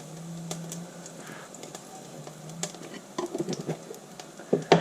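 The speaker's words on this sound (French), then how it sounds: "je vais mettre une demi-cuillère à café de graines de nigel" Nigella seeds dropped into hot oil in a pan give a soft, steady sizzle with scattered crackles and pops, growing a little louder and busier toward the end.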